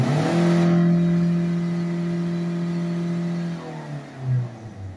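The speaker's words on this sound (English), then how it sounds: "So I'll do a full load acceleration just for a couple of seconds and see where it goes to." A Volvo C30 1.6 HDi diesel engine, with a blocked particle filter, pulls under full-load acceleration as a steady, strong rising drone for about three seconds, then eases off with a short surge near the end, no talking.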